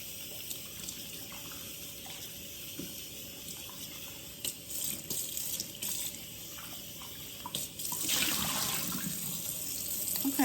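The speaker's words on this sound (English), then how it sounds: "I'm gonna rinse these and put them in here" Tap water runs steadily into a kitchen sink while salmon is rinsed, a continuous close splashing that grows louder and fuller near the end.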